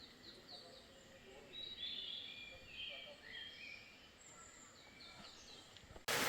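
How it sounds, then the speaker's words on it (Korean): Scattered bird chirps and short song phrases on a mountain at Dutasan, Samcheok, fairly faint and distant, over quiet outdoor ambience, ending with a sudden loud bump. "새소리가 너무 좋은 곳입니다."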